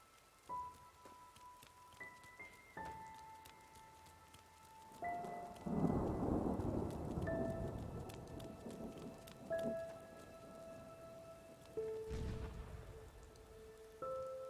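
Rain pours steadily in the fantasy game Enderal: Forgotten Stories while deep rolling thunder swells in the middle and again near the end, under faint tonal game music.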